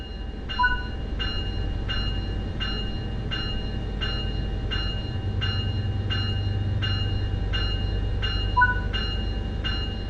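An EMD F125 locomotive in Train Sim World 4 sits with a steady low engine rumble, while a bright chime repeats at an even pace throughout.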